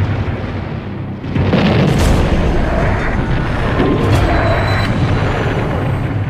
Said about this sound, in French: au-dessus de nous, les Allemands nous bombardaient.